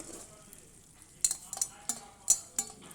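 Tomatoes stirred into sautéing onion, curry leaves and dried red chillies in a pan, a soft background sizzle broken by several sharp spoon clinks and scrapes in the second half.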